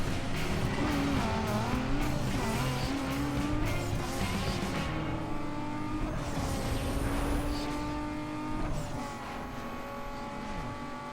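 Race car engines roar during a drag race in the video game NFS Underground 2, loud and sustained with rising revs and gear shifts, tire squeal and cars passing close by throughout.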